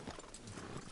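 Horse hooves clip-clop in Red Dead Redemption 2, a short, faint patter of steps over a dense game soundscape.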